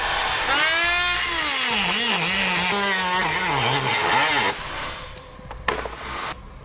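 A plastic section beneath the grille of a 2017 Ford Edge is cut away with a power tool, which whines steadily and shifts pitch as the blade works. It runs loud and close for about four seconds, then stops, followed by a few faint clicks and handling noises.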